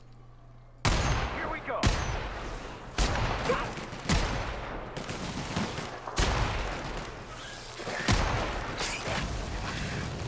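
Gunshots in The Outer Worlds ring out in a steady series of loud, sharp blasts about one per second, each trailing into a short echoing tail, with someone speaking briefly under them.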